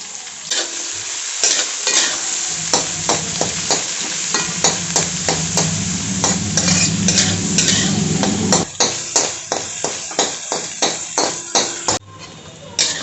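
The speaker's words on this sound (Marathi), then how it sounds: "मोठे मोठेच असे कांद्याचे काप केलेले आहेत, ते आता आपण परतून घेऊयात" Large slices of onion sauté in hot oil with two cardamom pods and a few cloves, a loud continuous sizzle punctuated by frequent sharp clacks of a spatula against the pan.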